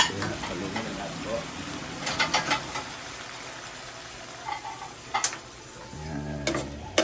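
Eggplant and sardines fry in a pan with a steady low sizzle, broken by scattered clinks and scrapes of a utensil against the pan, fairly quiet and close.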